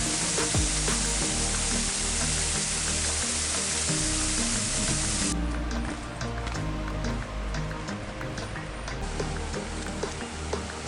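Rushing water from the biggest waterfall in Anna on the Costa Blanca, Spain, a loud steady roar with dense spray hiss throughout, slightly softer in the second half.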